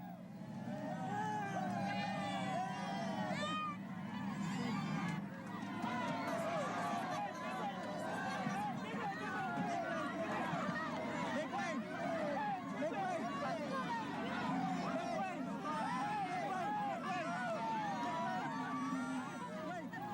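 A large, receptive crowd gathered around Imelda Marcos, a dense wash of loud overlapping voices, cheering and babble that stays steady and close throughout, with no single voice standing out.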